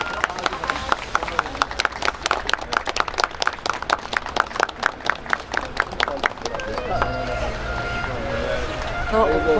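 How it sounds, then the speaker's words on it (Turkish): A crowd claps at the opening ceremony of an olive monument. The applause is dense and rhythmic, with rapid claps through the first part that later settle into a steadier wash, and voices murmur underneath. "Alkışlarınızla açıyoruz değerli misafirler."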